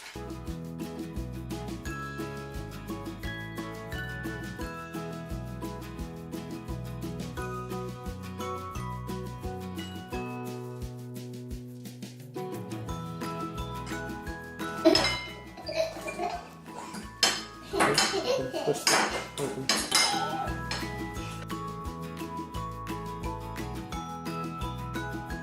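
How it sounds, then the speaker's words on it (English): Cupcake mix being emptied into a mixing bowl with egg and milk added, heard as a cluster of clinks and knocks against the bowl partway through, mostly under steady background music. "we need to empty the cupcake mix into a mixing bowl and add egg and milk"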